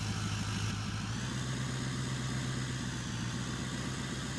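A pickup truck engine idles steadily in Farming Simulator 2015, a continuous low rumble with a mid-range drone running unbroken throughout, close and fairly loud with no talking.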